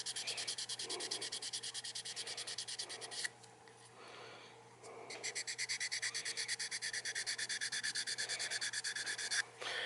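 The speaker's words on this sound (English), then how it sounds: "now I'm just sanding the sides of this, smooth those up" Fast, rhythmic back-and-forth rasping of 600 grit sandpaper on the wooden neck of a Martin guitar, close up, pausing briefly midway before resuming at the same steady pace.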